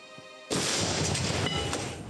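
A single loud, heavy artillery cannon blast erupts after a brief quiet moment at the front line of a war, its booming roar sustaining and slowly fading over the following seconds.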